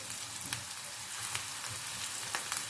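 Minced meat sizzles in a pan with browned onions for moussaka: a steady, hissing fry throughout, close to the pan, with occasional crackles and soft stirring knocks and no one speaking.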